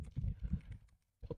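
Keys on a computer keyboard are tapped in a quick burst of soft clicks, a short pause, then a few more presses, close and quiet.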